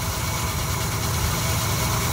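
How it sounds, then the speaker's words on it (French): A 1965 Pontiac Le Mans convertible's V8 idles smoothly with a close, steady, even rumble and no voices over it. "ce moteur qui tourne impeccablement"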